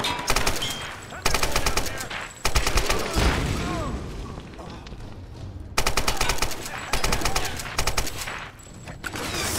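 Gunfire in the 2013 Tomb Raider video game: repeated bursts of rapid automatic shots, loud and close, separated by short pauses across the whole stretch.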